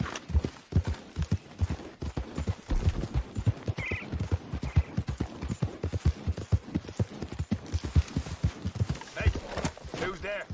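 A horse in Red Dead Redemption 2 gallops along with rapid, rhythmic hoofbeats that stay loud and continuous throughout, joined by a brief higher snort or jingle partway through.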